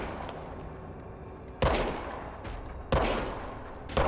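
Three separate gunshots ring out from the video game Control, evenly spaced about a second apart. Each one is a sharp, fairly loud crack followed by a decaying echo, set against a quiet, low ambient hum.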